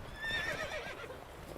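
Roach, the horse in The Witcher 3, lets out a loud, close whinny with a rising and falling pitch, layered over game ambience and low rumbling, lasting just over a second.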